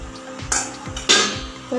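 A lid set down over a bowl of rava idli batter, giving a few short clattering knocks of metal and utensil noise, close and fairly loud with no talking.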